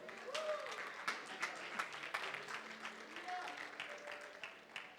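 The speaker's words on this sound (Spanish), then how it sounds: "Denle un fuerte aplauso al Señor" Scattered clapping from a church congregation during a sermon rises and continues for several seconds at moderate distance, with voices audible beneath it.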